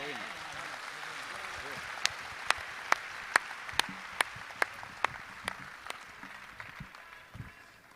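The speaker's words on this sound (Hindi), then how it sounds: "मैं चाहता हूं कि तालियों को भी शिखर में तब्दील कर दें।" Audience applause at a Hindi kavi sammelan poetry gathering: a steady wash of crowd clapping, with sharp individual claps landing in an even rhythm before the sound thins and fades.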